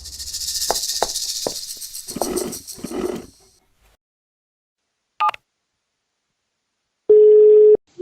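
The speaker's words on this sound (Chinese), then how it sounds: "您拨打的电话正在通话中。" A telephone line gives a single steady busy tone near the end, following a brief voice and a short click, with silence between.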